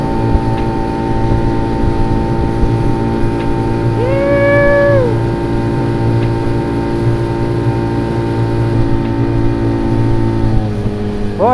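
Small homemade boat with an outboard motor cruising on open water: a steady, loud engine drone with harmonic whine runs throughout, a brief rising tonal swell midway, no talking.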